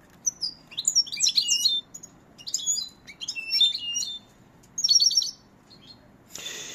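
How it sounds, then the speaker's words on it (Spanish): A young bird, a new chick of this year, chirps in several short bursts of high tweeting with brief pauses between them, close by and clear against a quiet background. "Aquí tenemos un pollo nuevo de este año."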